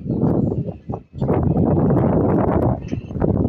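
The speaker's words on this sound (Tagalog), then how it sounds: "Lakas ng hangin, no?" Strong outdoor wind at a pigeon-racing release in Agdangan, Quezon, roaring and buffeting loudly against the microphone in continuous gusts, with one brief lull near the start.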